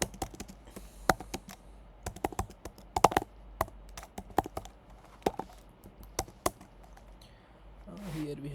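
Code being typed on a computer keyboard: irregular bursts of crisp, close keystrokes with short pauses between them, fairly quiet, with no talking.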